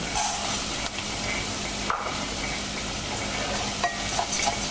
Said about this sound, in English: Stir around just enough to coat the rice.